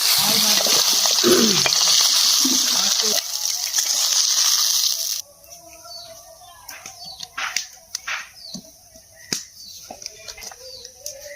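Tilapia pieces frying in hot oil in a pan, giving a loud, dense, steady sizzle for about five seconds, which then drops off to quieter handling clatter and scattered taps under a voice.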